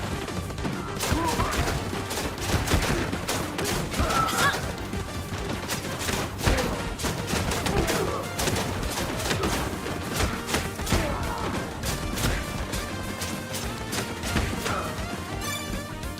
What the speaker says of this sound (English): Sorry, was distracted by the usable Gatling cannon.